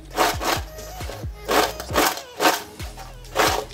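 Crispy fried potato snacks tossed with Kashmiri chili powder and chaat masala, giving a series of dry rattling, scraping crunches in an irregular rhythm of about eight bursts, close and moderately loud with no voice.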